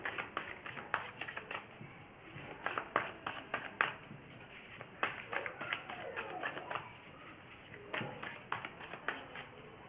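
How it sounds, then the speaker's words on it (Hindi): A deck of tarot cards is shuffled close by: rapid, soft flutters and taps that come in bursts and pauses, faint and papery. "जस्ट मिनट, कार्ड को शफल कर लेते हैं।"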